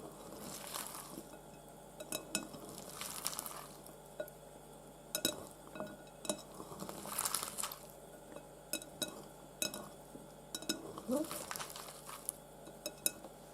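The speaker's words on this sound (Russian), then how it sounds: "Мнем лук, чтобы дал сок вместе с солью." Sliced onion kneaded and squeezed with salt by hand for a shashlik marinade, making soft squishes and crinkles with occasional light clinks, close but faint, with talk now and then.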